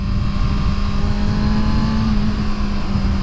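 A 2020 Kawasaki ZX6R sport bike's engine runs steadily at a high, droning pitch, loud and close, with no talk and no sharp rev changes.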